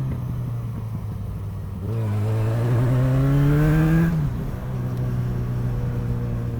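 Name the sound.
Yamaha XJ6 motorcycle engine while cornering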